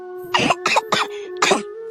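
Four sharp, close whooping-cough coughs in quick succession, harsh and throaty, with a faint steady hum in the background.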